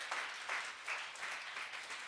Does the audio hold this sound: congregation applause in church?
yes